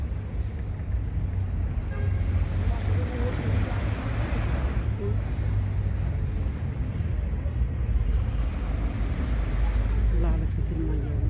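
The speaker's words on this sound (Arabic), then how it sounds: "الله على صوت الميه" Sea water and waves breaking at an Alexandria beach in Egypt, a steady, loud, continuous wash of surf that fills the whole stretch without pause.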